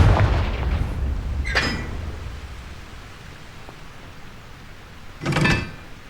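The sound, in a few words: Confringo blasting spell exploding, from the video game Hogwarts Legacy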